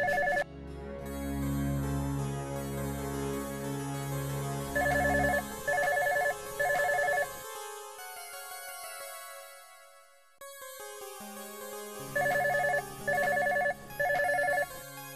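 Telephone rings in repeated short electronic bursts of two or three pulses, fairly loud and close, with a swelling background music cue in between and no speech.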